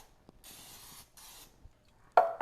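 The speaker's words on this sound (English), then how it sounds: "I pick this one up and I spray just" Two short hissing bursts of cooking oil spray coat the edges of a bread pan, each under a second and separated by a brief pause, followed by a louder clunk as the can or pan is handled.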